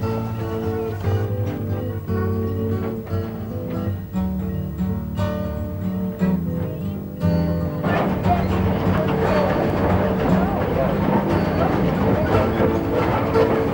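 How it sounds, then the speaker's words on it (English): Rhythmic clattering of train wheels over rail joints, steady and loud, with a rumbling undertone that grows denser and noisier partway through. "the clickety-clack of the tracks, the creaking of the cars"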